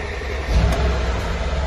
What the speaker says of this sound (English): But what I'm going to show you is go to crank the engine. It's going to take quite a bit to start it up.